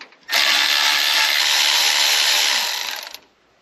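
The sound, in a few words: removing timing cover bolts on a 1983 C30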